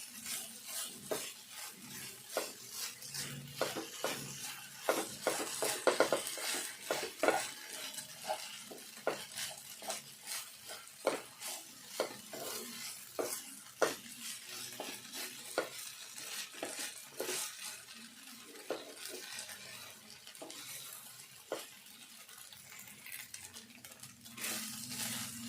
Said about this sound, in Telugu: ఇట్లా కలిసేటట్టు కలుపుకోవాలి.